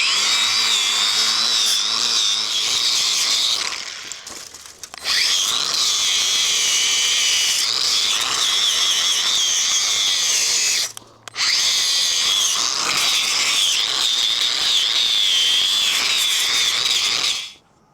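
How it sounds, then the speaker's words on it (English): Drill fitted with a wire wheel scrubbing surface rust off a car seat frame from a VH Charger, a loud, close, harsh grinding whir held for long stretches with two short pauses. "I've just spent probably half an hour just going over this with a wire wheel and a wire brush on a drill"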